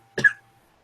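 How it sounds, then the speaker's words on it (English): A single short cough rings out close and clear against near silence, brief and sharp, with no talking around it. "I'm going to cough."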